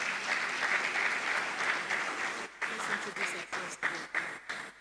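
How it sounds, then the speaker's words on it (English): Applause in a dinner hall at a law college's inaugural dinner, a dense round of clapping from the crowd that thins into scattered claps as it dies away. "A round of applause for her."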